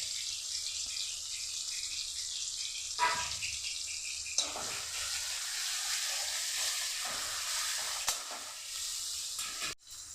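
Green chilies and ginger frying with softened tomato in a pan for chana dal, a steady close sizzle with a few sharper scraping stirs and clinks throughout.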